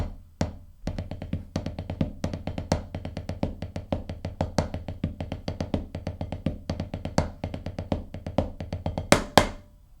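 Snare drum playing two bars of a solo from the film Drumline, dense rapid strokes in a steady driving rhythm with accented hits, close and loud throughout with no talking.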